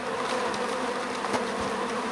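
Honeybees drone in a dense, steady buzz while a hive is being installed outdoors, close and continuous with no voices.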